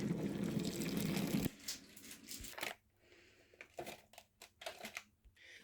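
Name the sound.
pouring cold water into a bowl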